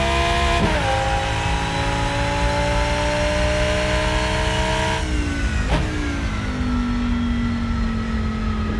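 A race car engine drones loud and steady on a cool-down lap of the Hockenheim circuit in the Rennsport racing game, with a brief gear change and the pitch settling lower toward the end.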